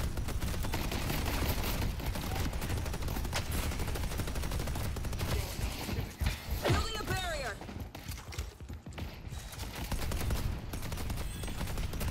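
A sentry turret keeps firing in the video game Deadlock with a TF2 mod, a dense stream of rapid shots mixed with game effects and loud commentary throughout.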